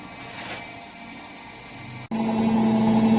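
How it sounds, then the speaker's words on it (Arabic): An old Ariston washing machine starts its final spin: a quiet hum suddenly steps up at the midpoint into a loud, steady high-speed whirring drone that holds to the end. "بص حضرتك بقى كده دي اخر عصره. بص سرعه العصر عامله ازاي."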